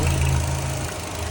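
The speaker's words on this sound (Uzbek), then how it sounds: "Motor ishini qarang, qanaqa." A car engine runs steadily at a used-car lot in Asaka, Uzbekistan, a low, even idle with a faint knock, close and continuous through the short stretch with no talk.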